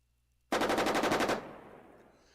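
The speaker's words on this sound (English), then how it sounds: "He fires his machine guns at the infantry gun." A tank fires its machine guns at an infantry gun in the WWII tank game Armoured Commander II: one loud, rapid rattling burst of about a second, followed by a fading echo, with no talking.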